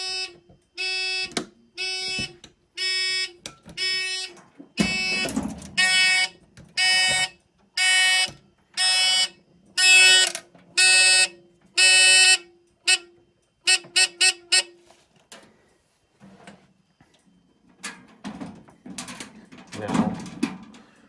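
A Simplex 4005 fire alarm system with mechanical horns sounds during a test, blaring in evenly spaced pulses that speed up into shorter bursts before stopping, followed by a few faint handling noises.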